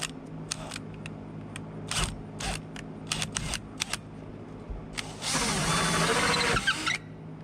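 A drill spins a hole saw in reverse to trim a hole during main breaker panel rough-in work, giving a sustained, loud, broadband whir for about two seconds after scattered clicks and handling knocks.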